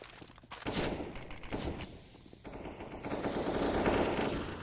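Bursts of automatic gunfire in a Counter-Strike match on the Mirage map, loud and fairly continuous, with shots firing through cover and a few brief pauses between volleys.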